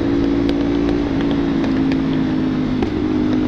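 A GPR motorcycle engine drones steadily and loudly on a 3am night ride, a constant buzzing hum with slight fluctuations and no talk.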